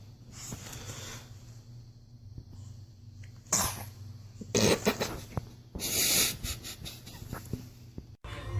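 Babies sneeze in several sharp, explosive bursts close by, separated by stretches of soft breathing and rustling, the loudest sneezes coming near the middle and end.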